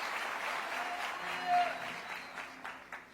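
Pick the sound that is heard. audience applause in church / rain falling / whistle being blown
audience applause in church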